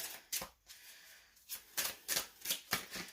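A Rider-Waite size tarot deck with good cardstock being shuffled up close, quiet crisp riffling bursts that come quicker toward the end.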